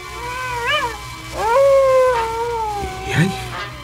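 A human voice imitates coyote howls, giving several rising and falling drawn-out wails, close and fairly loud, with a short throaty sound near the end.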